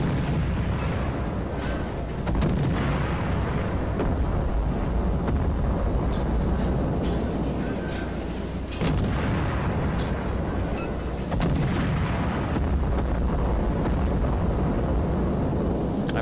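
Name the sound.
naval guns firing in the World of Warships video game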